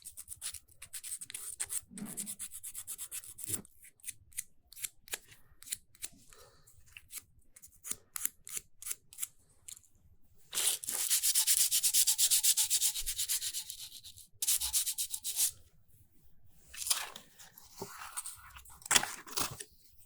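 Sanding a small rounded alabaster star pendant with 120 grit sandpaper: rapid dry scratchy strokes, bursts of short rubs broken by pauses, then a longer continuous stretch of loud rasping, close and alone.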